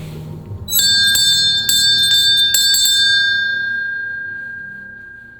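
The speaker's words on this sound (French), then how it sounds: "Je vais faire sonner la cloche une fois" A handbell rings several times in quick succession, then the bright tone lingers and slowly fades out alone.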